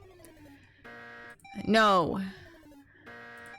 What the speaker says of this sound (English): I'm gonna hear this buzzer sound 8 billion times.